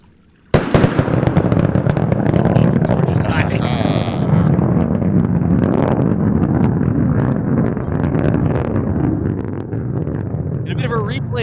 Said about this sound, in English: Did y'all hear the sonic booms?